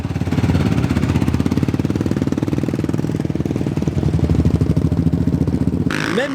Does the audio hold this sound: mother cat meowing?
no